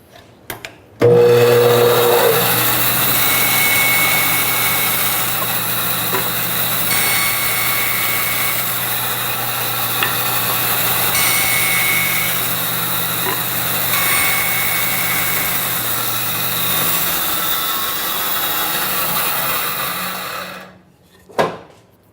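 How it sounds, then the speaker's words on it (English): A handsaw blade cuts a kerf down a wooden tenon to split it for a wedge, a steady, continuous rasping drone that runs close and loud for about twenty seconds before stopping. "make one cut, make the next. And the saw kerf that this blade is going to take will be where the wedge will go."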